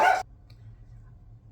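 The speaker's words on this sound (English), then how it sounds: "dogs bark a lot" A single short, sharp dog bark sounds loud and close at the very start, then cuts off into a quiet, low room hum with no voices.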